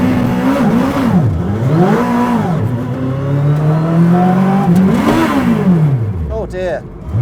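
A tuk tuk's small engine revs loud and close, the pitch climbing and dropping repeatedly as it accelerates and shifts gears while driving, steady from start to finish.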